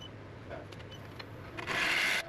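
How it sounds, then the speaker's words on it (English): A 38mm by 10mm round nose scraper rubs against a redgum burl bowl spinning on a lathe, giving a soft, close scraping rasp that builds into a louder, brighter hiss toward the end. "Now I've just switched over to my 38mm by 10mm round nose scraper, trying to get rid of a little ridge"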